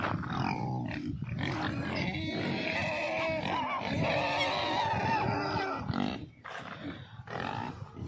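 Large pigs on a pig farm in Gadwal grunt and squeal continuously and loudly up close, a dense overlapping chorus of snorts and oinks with a brief dip near the end.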